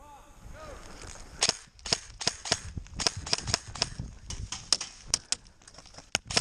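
Airsoft guns fire at an outdoor airsoft game, a string of sharp snapping shots in uneven bursts, some close and loud, others lighter, over faint background noise.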